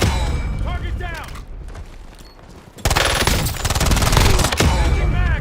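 Rapid automatic gunfire in a tactical shooter video game, sparse at first, then dense, loud bursts of fire in the second half, with voices talking over parts of it.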